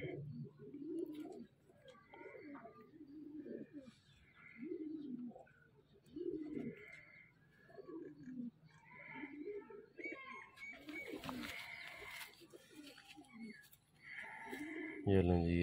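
A golden pigeon coos repeatedly at close range, soft rounded low calls in a regular rhythm, while someone talks over it and a brief noisy rustle breaks in near the end.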